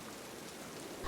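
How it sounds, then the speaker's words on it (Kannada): Heavy rain falls in a steady, fairly faint wash of patter, with a brief low thump near the end. "ಈ ಮಳೆಯ ಶಬ್ದ ನೋಡಿ ಎಷ್ಟು ಜೋರಾಗಿ ಕೇಳಿಸ್ತಿದೆ"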